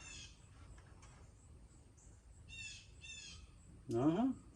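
A bird gives a short, loud squawking call close by in a workshop setting, after a few fainter chirps earlier; someone talks quietly around it.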